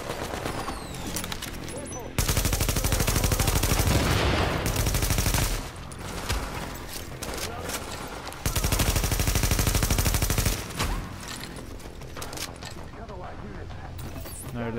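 Heavy automatic gunfire aimed at a turret in The Division, long loud rapid-fire bursts separated by quieter stretches of lighter shooting, with someone speaking in between.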